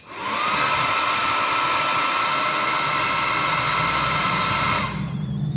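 Hair dryer used as a makeshift blower on a wood cooking fire whirs loudly and steadily for several seconds, with a low rumble beneath, then cuts off abruptly.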